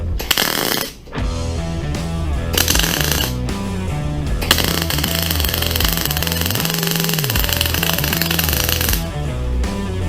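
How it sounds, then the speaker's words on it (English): Welding on aluminum plate gives a loud, continuous buzzing crackle with a steady hum underneath. A brief dip comes near the start, and no one speaks. "let's go helmets down and weld"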